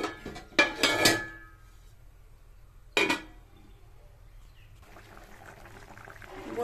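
Water poured into a cooking pot of vegetables, a couple of short splashing pours with clinks of a vessel, followed by a quieter low bubbling simmer.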